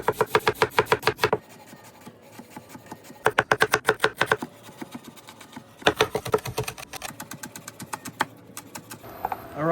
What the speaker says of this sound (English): We're going to chop that up.